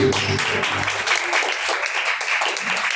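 A church congregation bursts into loud, dense applause for Jesus, the clapping continuous and close for a few seconds before it starts to thin out.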